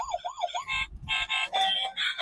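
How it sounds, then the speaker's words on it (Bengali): A toy police car plays a warbling electronic siren nearby, rising and falling in quick cycles before switching to choppier beeping tones, loud and close. "পুলিশের গাড়ি। তো আওয়াজটা খুব সুন্দর হচ্ছে।"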